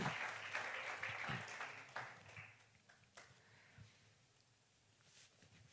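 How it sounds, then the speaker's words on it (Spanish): A church congregation's applause trails off. Scattered claps thin out over a couple of seconds into near quiet, with a few isolated taps afterward. "Démosle un aplauso al Señor Jesucristo"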